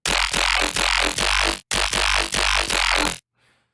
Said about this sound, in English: Today I'm going to show you how to make a growl within Vital.